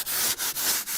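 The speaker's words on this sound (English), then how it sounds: "I just give it a slight rub. Well, I still got my sandpaper." Sandpaper rubbed by hand over house siding, a close, steady scratchy hiss in four short back-and-forth strokes, each separated by a brief dip as the hand reverses.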